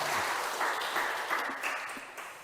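Church congregation applauding during a Sunday afternoon service in Korea, a steady, dense wash of many hands clapping at moderate volume throughout, with no voices over it.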